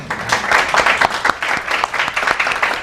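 Audience applause at a digital branding and communication talk, a dense steady wash of many hands clapping filling the room throughout, fairly loud with no speech over it.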